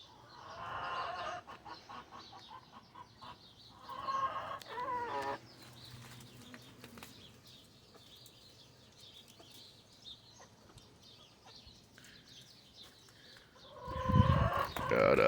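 Backyard chickens about twelve weeks old, including a red hen, clucking and squawking with bursts of wing flapping, a loud flurry of squawks close by toward the end.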